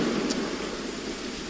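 Rain falls in a steady, dense hiss, close and fairly loud, an even wash of drops with no voices on top.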